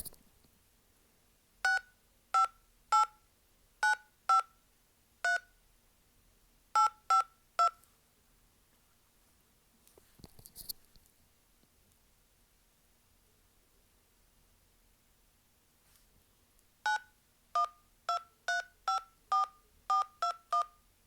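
DTMF keypad tones from the OldOS phone app sound in two bursts of evenly spaced short beeps, roughly nine then ten tones, separated by a quiet gap with brief rustling.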